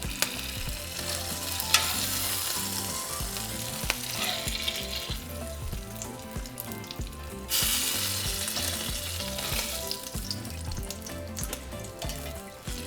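Shredded beef taquitos fry in hot oil, a loud, dense, continuous sizzle and crackle that swells and eases as they are turned, with no voices.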